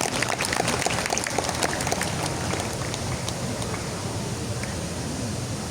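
An audience at an Islamic Quran recitation gathering claps, producing a dense, steady patter of many hands that continues evenly throughout at moderate loudness.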